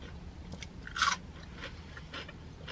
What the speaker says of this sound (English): Do you guys hear that crunch?